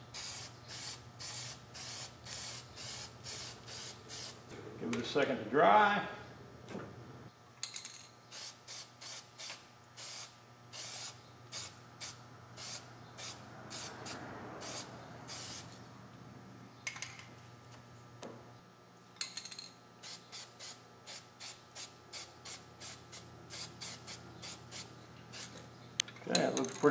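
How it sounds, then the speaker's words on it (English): Short bursts of aerosol spray paint through a star stencil hiss in quick succession, mostly regular, with a brief spoken remark partway through and a faint hum underneath. "See how our paint's spraying"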